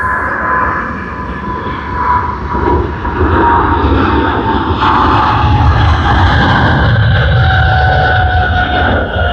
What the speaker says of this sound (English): EK415 Sydney to Dubai service on the Boeing 777-300ER has begun its takeoff roll